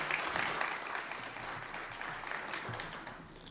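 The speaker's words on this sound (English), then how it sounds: "Let's give them all a round of applause." An audience applauds a University of Texas system medical school announcement in Tyler, East Texas, with steady, moderately distant clapping from a room full of people that slowly eases off.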